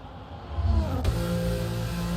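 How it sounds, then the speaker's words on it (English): Racing car engine in a racing video game, a steady droning whine that builds and then holds a sustained, layered tone, loud and continuous with no talk over it. "I might need to turn car sound down."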